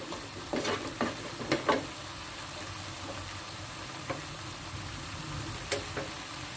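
Stirring and frying in a pan while cooking a sambal with tomato, chili and shallots: intermittent scraping stir strokes over a steady low sizzle, fairly close, with no talking.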